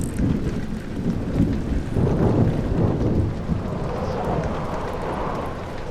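Rain and rolling thunder ambience in the horror game Amnesia: The Dark Descent, a constant low rumbling wash with swelling thunder peaks, steady and fairly loud throughout.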